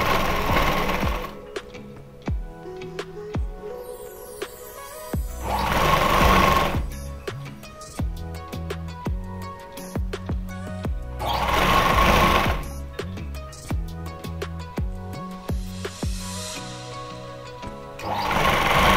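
A sewing machine stitches a Patiala salwar in several loud, fast whirring runs separated by pauses, close up, with faint talk in between.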